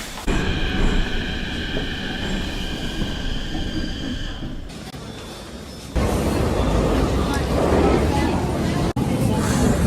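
A crowded train pulls away after its doors close, a loud, close rumble of wheels and carriage noise with high whining tones at first, then a heavier roar, with people talking throughout.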